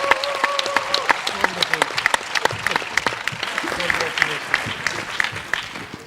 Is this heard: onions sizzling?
no